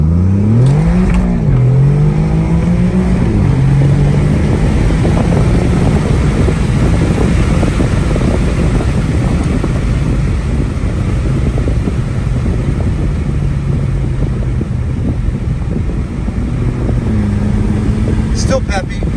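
An Alfa Romeo Giulia Quadrifoglio fitted with a carbon fiber intake accelerates along a straight road, a loud sustained engine drone rising in pitch then holding steady as it cruises, heard from inside the car.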